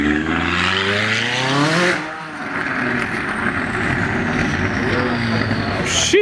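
A supercar engine revs loudly up close, its pitch climbing in a sharp sweep before dropping off, then a rougher rumbling roar continues in a street setting with voices in the background.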